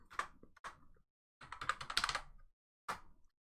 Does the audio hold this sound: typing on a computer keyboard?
yes